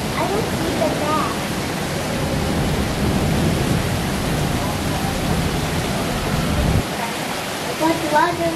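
Heavy rain in Silivri, Turkey, a loud dense hiss of downpour filling the whole stretch, with brief faint voices near the end.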